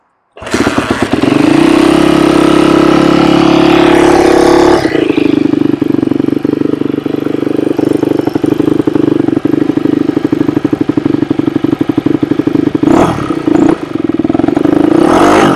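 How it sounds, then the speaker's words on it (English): A Yamaha YZ250F dirt bike is kick-started and roars to life close up, revving loudly before settling into a steady, rattly idle with a couple of sharp throttle blips near the end. "now it's time to sit down on it and see if we can do a little kick in and get it started"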